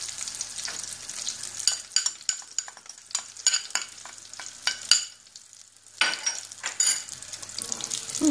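Flour is stirred into melted butter in a pot, with a soft background sizzle broken by repeated sharp clicks and scrapes of a spoon against the metal, including a brief quiet pause partway.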